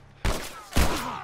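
Two sharp, loud gunshots ring out about half a second apart in The Last of Us Part 2, each a sudden broadband blast with a lingering ringing tail.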